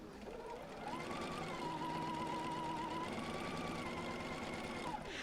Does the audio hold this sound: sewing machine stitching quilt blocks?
yes